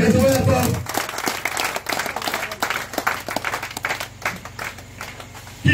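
A church congregation at a revival service applauding, scattered claps and crowd noise rising then thinning into irregular clapping, with a voice heard over it.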